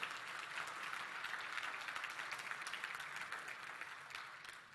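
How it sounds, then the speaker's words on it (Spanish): A church congregation claps together in a continuous, even burst of applause, fairly distant and softly recorded, tapering slightly at the end. "Démosle palmas a nuestro Dios."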